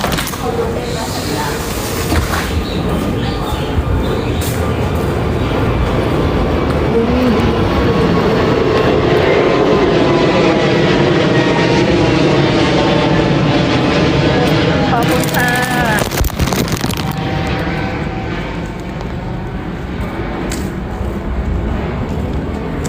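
An airplane flies overhead, its loud, steady broadband roar filling the whole stretch while people talk over it.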